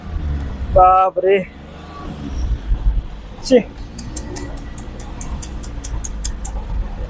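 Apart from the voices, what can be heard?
car engine revving hard while stuck on road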